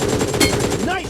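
Rapid bursts of gunfire from the mobile battle royale game BGMI, played on a Realme phone running RISING OS, rattle loudly through the whole moment with little pause.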